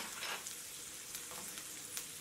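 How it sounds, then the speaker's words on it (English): Chopped ginger, green chili and ground coriander sauté in a pan with a soft, even sizzle and a few faint stirring touches. The sound is quiet and close. "Saute this for about a minute."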